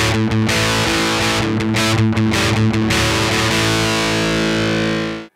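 Electric guitar played through the dirty distorted channel of a Behringer Ultra DI600p, a thick buzzing chord strummed a few times in quick chops, then left to ring out loud and sustained before cutting off.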